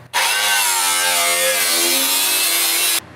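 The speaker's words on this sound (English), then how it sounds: "we're just gonna have to take the sawzall and just hack all this away" A reciprocating saw cuts through the sheet metal cowl of a classic truck, a loud, close, continuous buzzing whine with shifting pitch that starts abruptly and stops sharply after about three seconds.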